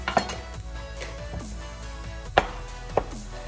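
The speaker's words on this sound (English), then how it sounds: "Slice the potato in half" A knife cuts through a large potato on a board, a few sharp chopping knocks spaced apart against a low background hum, close and fairly quiet.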